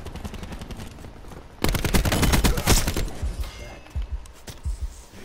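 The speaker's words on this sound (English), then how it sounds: "Firing sensor gun." Sensor gun in Black Ops 4 firing a dense, loud automatic burst of shots for a couple of seconds, followed by scattered single reports and softer game noise.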